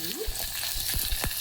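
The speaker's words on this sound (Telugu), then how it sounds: "పోపు బాగా వేగింది కదండి" Fenugreek seeds, chilies and curry leaves sizzle in hot oil in a pan for a Telugu bottle gourd pulusu tempering, a soft close crackle with a few sharp pops and stirring scrapes.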